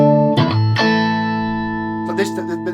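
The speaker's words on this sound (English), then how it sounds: "But even in the single coily sounds like this do sound good with drive on them" Single coil electric guitar with drive through a Victory Sheriff amp, sounding a few picked notes that ring and sustain, then a fresh burst of strummed attacks near the end, loud and close.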